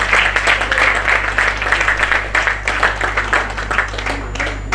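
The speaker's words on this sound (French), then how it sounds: "Est-ce que nous pouvons applaudir pour le deuxième?" Steady applause from an audience at an awards ceremony, a dense wash of clapping hands with a constant low hum underneath, holding at an even level throughout.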